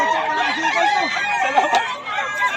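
Chickens offered for sale at a market in Pangasinan, close rooster crowing and hen clucking overlapping in a short, busy burst with no talk.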